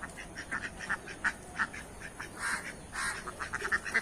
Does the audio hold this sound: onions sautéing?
no